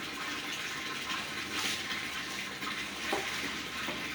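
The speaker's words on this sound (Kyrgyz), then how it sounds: "дагы бир сыйра суу төгүшөт экен" Water splashing and pouring over a rug at a carpet washing center, a steady broadband rush lasting throughout at moderate level with brief louder surges, no voices.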